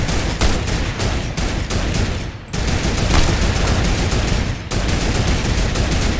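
Loud, dense gunfire from the video game Fortnite: rapid automatic bursts hammer almost nonstop at close range, with one short lull midway.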